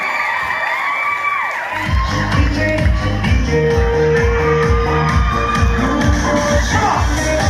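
At a Filipino wedding reception, guests cheer, whoop and shout loudly as the newlyweds are introduced. The noisy crowd holds steady throughout, over a rhythmic low thumping beat.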